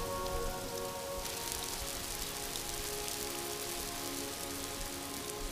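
Torrential rain, followed by hail, on a bikepacking trip, pouring down as a dense, steady hiss of drops hitting surfaces, loud and continuous with a faint tonal hum underneath.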